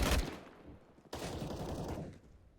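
Gunfire in a competitive shooter game punches through a wall in two bursts, a sharp opening shot followed by a rattling volley about a second later that fades into quiet.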